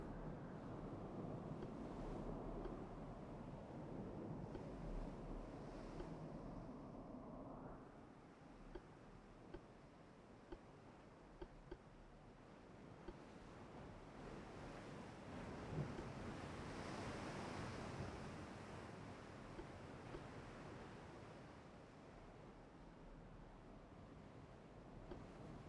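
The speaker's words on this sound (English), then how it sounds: "Smooth waves." Steady ocean waves and surf wash continuously in the naval battle game Ultimate Admiral: Dreadnoughts, a broad, even sea roar with some wind noise and a few faint ticks throughout.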